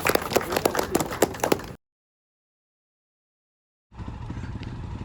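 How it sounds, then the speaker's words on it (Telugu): Motorcycles start a Republic Day parade ride in Rajahmundry. A loud, close engine rumble with pulsing revs breaks off into silence, then a steadier, more distant engine hum returns. "ఇంకా రైడ్ స్టార్ట్ అవుతుంది"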